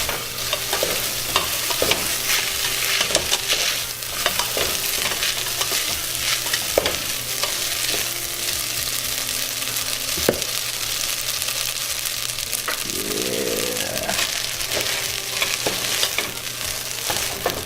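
Garlic and noodles fry in a pan with butter, giving a loud, continuous sizzle with frequent scraping and stirring clatter throughout, and no talking.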